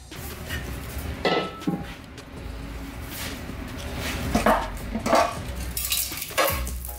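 Metal parts clink and scrape intermittently as the oil pan comes off a Toyota 4Runner engine with about 10,000 miles, in several close, sharp knocks spread over a steady background hiss, with no talking.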